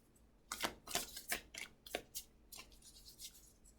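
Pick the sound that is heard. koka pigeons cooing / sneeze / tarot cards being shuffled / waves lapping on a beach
tarot cards being shuffled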